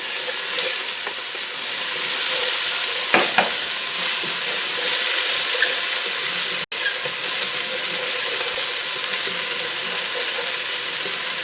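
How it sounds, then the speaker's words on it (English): Chopped onion sizzles steadily in a hot pan used to sear a smoked turkey leg for collard greens, a loud continuous frying hiss with brief stirring scrapes partway through. "I'm going to add 1 onion chopped."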